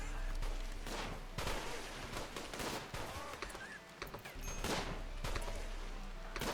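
Triple missiles launching in a strategy game set in hostile grasslands, a string of loud whooshing blasts and booming impacts spread over several seconds, with a faint voice now and then.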